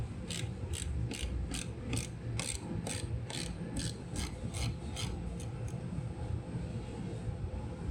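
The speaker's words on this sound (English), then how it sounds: "We're gonna go ahead and take off the screws right here for the headlight." Ratchet wrench clicking in quick, regular bursts while backing out 10mm headlight screws on a 2015-2019 Cadillac Escalade, with a steady rasping mechanical texture underneath and no talking.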